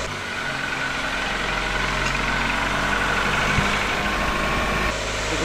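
A car engine idles steadily after a valve repair, a continuous close low hum with a smooth, even rhythm and no audible valve clatter.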